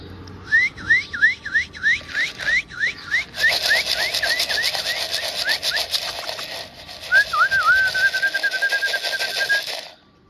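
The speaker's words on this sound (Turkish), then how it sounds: "Islık arkadaşlar." A person whistles to call young pigeons down to feed: a run of short rising whistle notes repeated rhythmically, then a sustained steady whistle, close and loud over a broad hiss of background noise.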